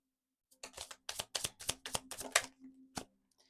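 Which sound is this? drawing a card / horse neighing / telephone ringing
drawing a card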